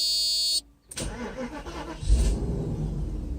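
A Mercedes S500 engine cranks briefly, catches and settles into a steady idle, loud and close after a short initial gap.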